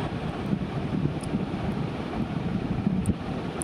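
Milk tea in a pan comes to a boil with a dense, low, rumbling bubbling hiss, steady and close, punctuated by faint small clinks.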